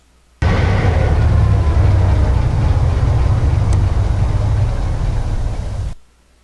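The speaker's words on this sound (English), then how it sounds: "we want to stop the locomotive. So there is a" A locomotive stop sound effect from a sound module. A loud, close rumbling engine roar starts abruptly, holds steady for about five seconds, then fades out quickly into silence.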